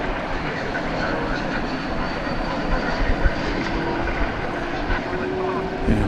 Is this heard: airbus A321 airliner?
yes